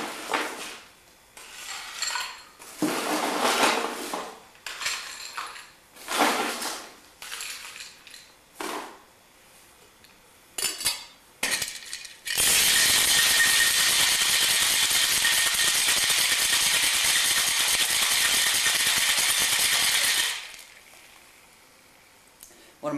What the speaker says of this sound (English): But I'll just add some ice and give this a good shake to then finish the drink.